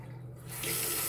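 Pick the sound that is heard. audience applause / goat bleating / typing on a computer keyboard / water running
water running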